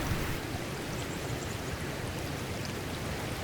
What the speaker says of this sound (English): This is the river flowing from the waterfall